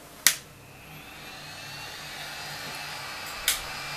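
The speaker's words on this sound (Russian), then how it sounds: "Итак, последний у нас идет фен от нее." A hot air rework gun from a budget soldering station gives a steady airy blowing hiss that rises and holds throughout, bracketed by two sharp clicks near the start and end, fairly close.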